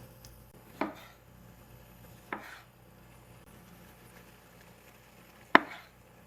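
A knife cuts small cherry or plum tomatoes into quarters on a board, three separate sharp chops spaced a few seconds apart against a quiet kitchen background, close by and with no one talking.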